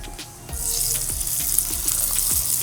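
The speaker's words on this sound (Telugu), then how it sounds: "చూసారు కదా ఆవాలు జీలకర్ర చెట్పట్లాడే అదేవిధంగా పప్పులు కూడా వేగాయి కదా" Oil sizzles steadily with sharp pops and crackles scattered throughout as mustard seeds and cumin splutter, close up with no voices.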